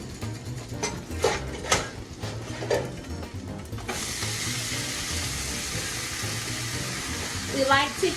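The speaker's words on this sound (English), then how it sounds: "We like to hear that sizzle." A steady, loud sizzle of vegetables frying in hot ghee for homemade chili starts abruptly partway through, following a few clanks and a voice speaking.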